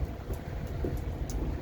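Rain patters steadily on the deck of the SS Explorer, a former fisheries research vessel, a soft continuous hiss with a few faint brief drips standing out, no voices.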